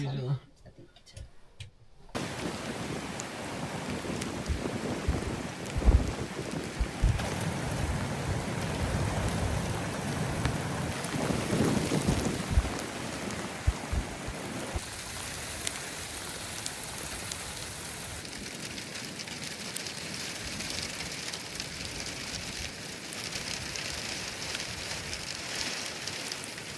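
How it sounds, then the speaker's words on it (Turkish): Heavy rain drums steadily on a towed caravan while campers stay inside, a dense patter with scattered louder drops and ticks, near and continuous, with a short quieter moment at the start and voices at times. "Çok yağmur yağdı dün uyuyamadım."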